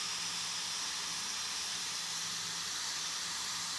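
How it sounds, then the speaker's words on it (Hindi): A steady, loud hiss of steam escaping from a pressure cooker of cooked dal, continuous and unbroken throughout. "हम प्रेशर कुकर में से थोड़ी गैस को निकलने देंगे"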